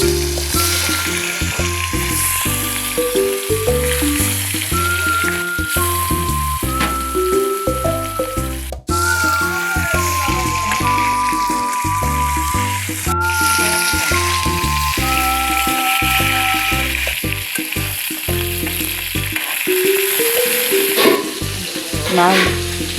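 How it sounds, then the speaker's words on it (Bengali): Pieces of rohu fish fry in hot oil in a wok, giving a steady, continuous sizzle that runs throughout beneath prominent background music. "এখন কড়াইতে তেল গরম করে মাছগুলো ভেজে নিই।"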